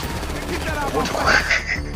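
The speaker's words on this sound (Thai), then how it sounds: "อยากจะรู้ว่าไอ้ลามามันยิงไง วางปืนมาเลยเพื่อนซัดมัน" Rapid gunfire in GTA V during a repossession mission, bursts of shots crackling over game effects with a voice talking underneath, loud and close throughout the short burst.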